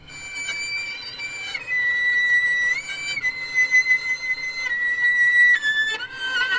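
A violin plays artificial harmonics, made by stopping a note and lightly touching the string with another finger. Thin, pure, flute-like tones sustain in a slow melodic line, moving between held pitches.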